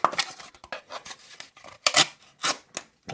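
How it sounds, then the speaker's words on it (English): Knife blade slicing diagonally through single-wall cardboard, a series of quick rasping, scraping strokes of varying length, close and fairly loud with no talk. "cutting through that cardboard there pretty effortlessly"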